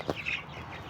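A hen in a backyard flock of black chickens gives a brief, faint cluck or two at close range, followed by quiet background.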